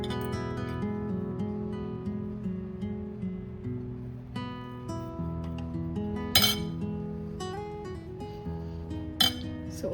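Spice stuffing is mixed into baby eggplants in a metal pan, giving repeated light clinks and scrapes of utensil on cookware over a faint background hum, with a couple of sharper knocks.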